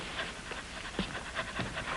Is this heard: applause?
no